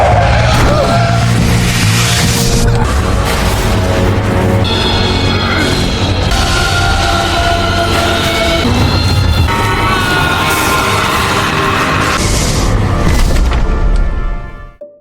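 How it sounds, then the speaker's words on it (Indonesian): A car suddenly slams into someone, with loud engine roar, squealing tires and crashing impacts layered under dramatic music and effects, sustained at high volume before cutting off abruptly. "sebuah mobil tiba-tiba menabraknya entah dari mana"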